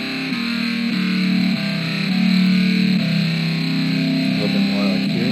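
An electric guitar with distortion and effects plays sustained chords in a song mix while its tone is being equalized, a loud steady wash with shifting low body.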